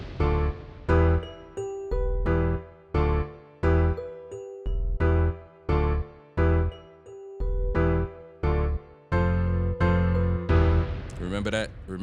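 A rhythmic groove of punchy stabbed electric piano chords over a deep bass line with grand piano, repeating in a steady pattern and ending in a bright flourish.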